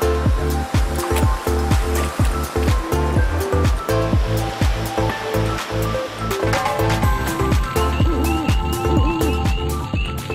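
A river stream flows through a forest at night, with a steady, close rushing and gurgling of water that runs continuously without a break.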